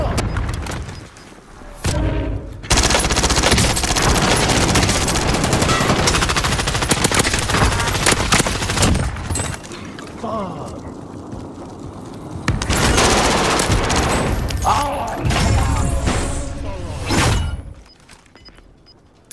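Gunfire in the Warzone battle royale game, long bursts of loud, close machine-gun and rifle fire rattling for several seconds, then a lull and another burst, with brief voices around it.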